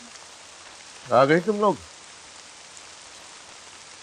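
Heavy rain falls steadily as a constant wash of noise in a home, with a short burst of speech partway through.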